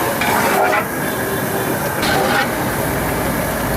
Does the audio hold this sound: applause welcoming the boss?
no